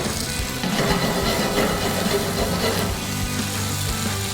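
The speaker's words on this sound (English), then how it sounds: "Our steak is almost done." Steak frying in a pan gives a steady, close sizzle with crackling spatter that runs unbroken throughout, and no one speaks over it.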